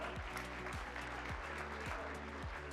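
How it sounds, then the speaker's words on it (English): An audience applauds at the Excel World Championship, a dense, sustained patter of clapping over a low, rhythmic musical bed. "Big round of applause for everybody that has been up so far."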